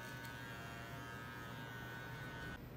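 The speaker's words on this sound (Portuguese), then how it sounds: "vou me passar na máquina de acabamento bem de leve, só para deixar mais raspado aqui essa parte de baixo" An electric finishing clipper used lightly to trim the lower part of a men's fade haircut, a steady close buzzing hum that runs continuously and briefly shifts near the end.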